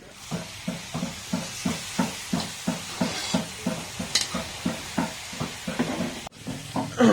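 Meat cooking in a pan, with a soft sizzle under a steady, rhythmic scraping of a spoon stirring around twenty times, followed by a brief clatter near the end.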